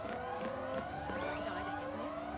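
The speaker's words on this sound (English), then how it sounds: "that siren continues like 24/7 here, and even through combat" A continuous wailing siren from a location in Final Fantasy XIII, rising and falling tones layered over steady game music, fairly faint.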